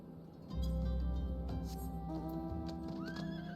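A horse in the game Final Fantasy XIV neighs in a loud, rising whinny over steady hoof clip-clops, with a continuous low rumble underneath and no talk.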